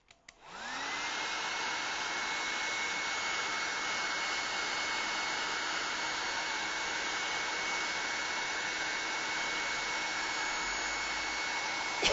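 A hair dryer starts up with a brief click and then blows steadily for about twelve seconds, a constant close whooshing hum with a faint whine, no speech.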